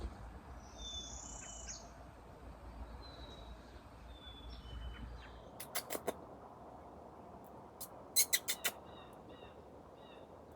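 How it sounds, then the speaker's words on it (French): Small birds chirp and tweet outdoors very early in the morning, with faint high calls in the first half and a few louder, sharper chirps near the end over steady low background noise. "j'écoute mes petits vlogs au son des petits oiseaux"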